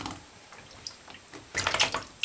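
Bathwater in a tub during a small child's bath, a short burst of splashing and sloshing rising near the end after quieter trickling.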